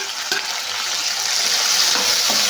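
Tomato pieces sizzle steadily in a pan with onions, a loud, close frying hiss with occasional stirring clicks and no talking.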